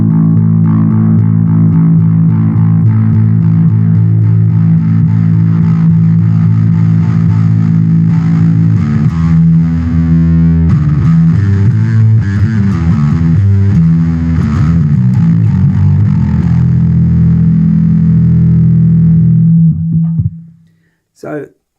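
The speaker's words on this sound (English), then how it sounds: "So as I turn it up, you get more distortion." A bass guitar played through a Boss Dual Cube Bass LX amp with its drive section engaged rings out as a loud, sustained, gritty distorted tone, with the notes shifting partway through before the sound cuts off abruptly at the end.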